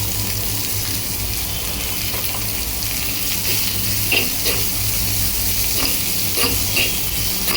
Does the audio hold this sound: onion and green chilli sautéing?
yes